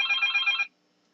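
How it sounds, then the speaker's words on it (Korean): A telephone rings in a medical examination room, a short electronic trill lasting well under a second that then cuts off into silence. "잠깐만 전화 왔어요."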